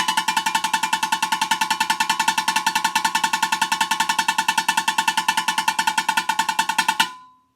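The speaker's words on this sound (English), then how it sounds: "See how fast you can go on the snare drum." Rapid, even strikes on a plastic bucket standing in for a snare drum on a homemade bucket drum set, a fast continuous roll of sharp bright hits that stops abruptly after about seven seconds.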